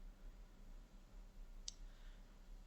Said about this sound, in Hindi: इस पर डबल क्लिक करते हैं।